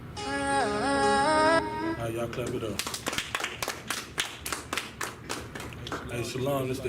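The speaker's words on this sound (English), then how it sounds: "Y'all clap it up." An audience claps along at a religious class gathering, a run of sharp, fairly rhythmic claps after a burst of chanting and music, with a voice speaking over parts of it.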